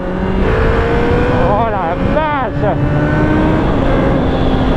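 A 1990 Suzuki GSX-R 750 motorcycle revving hard under way, its engine note sweeping up and down through several rising pitch runs over loud wind rush, with a rider's exclamation heard briefly.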